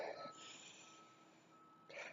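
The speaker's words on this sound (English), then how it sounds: "if you can hear that, that's the trash truck" A trash truck reverses outside, its backup beeper sounding a few faint steady tones far off, with breathy noise close by and brief bursts of louder sound at the start and end.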